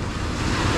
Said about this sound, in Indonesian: Hantaman ombak.